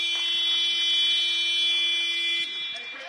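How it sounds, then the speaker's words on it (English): A loud, steady electronic buzzer sounds for half-time at a futsal match in a university sports hall, holding one continuous tone for about two and a half seconds before cutting off, with faint hall noise and crowd murmur behind it. "And there is the buzzer then for half-time in the first game here today at the University of York"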